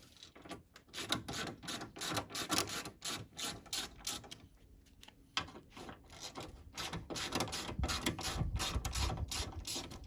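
Ratcheting socket wrench clicking steadily as 8mm screws are removed from a 2003 Vauxhall Corsa C SXi, with rapid bursts of mechanical clicks repeating close by and no voices.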